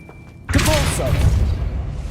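A Depulso force spell strikes in Hogwarts Legacy, a sudden heavy thud with a booming rush that lingers loudly for over a second after a quiet start.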